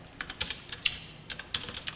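Keys clatter on a computer keyboard while CSS code is typed, a quick irregular run of light clicks at close range, with no talking.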